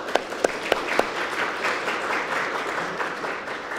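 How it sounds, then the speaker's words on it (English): Applause for panelists at a public conversation on Coquitlam's transportation future: a steady wash of crowd clapping with a few sharp individual claps standing out early, sustained and fairly even throughout the clip. "thank you very much for each round of applause for our panelists"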